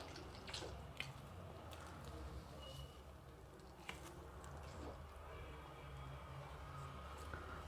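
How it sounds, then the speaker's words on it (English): Water is flushed through the inner channel of an endoscope during cleaning, giving a steady, close rushing hiss with a few faint drips and small clicks throughout. "irrigating the inside part of the scope"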